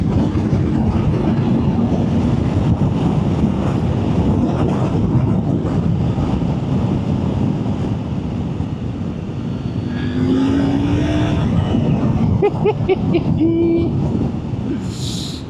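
A Triumph Tiger 900 Rally motorcycle rumbles steadily at riding speed, loud, constant engine drone mixed with wind rush, with a few faint higher tones near the end.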